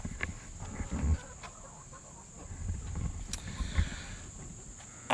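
Chickens around a homestead coop, with faint scattered clucks and low rustling over steady outdoor background noise, a couple of louder thumps near the start and end.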